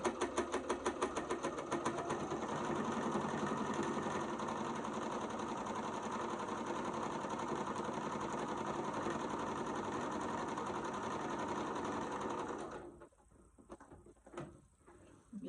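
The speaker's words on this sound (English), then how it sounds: "I'm doing it on the sewing machine so I can show y'all" A sewing machine stitches straight seams on a fabric hot pad made from scraps, a fast steady mechanical whirring with rapid needle ticks running for about twelve seconds before stopping, followed by a few quiet handling clicks.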